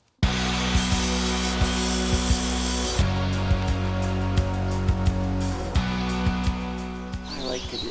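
A power saw cuts wooden strips for a chessboard with a continuous loud whine, dipping briefly as the blade works through the stock, then trailing off at the end.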